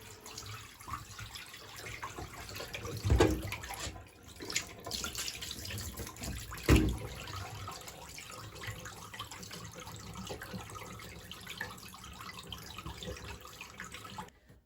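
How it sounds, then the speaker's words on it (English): A portable washing machine drains its water with a continuous hissing, trickling flow that runs steadily throughout, close up, with a couple of brief louder splashes along the way. "we're going to go ahead and drain right now"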